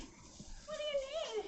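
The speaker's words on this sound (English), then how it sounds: "That's my dog." A dog whines in a high, wavering tone that rises and falls near the end, while a person speaks over it in a small room.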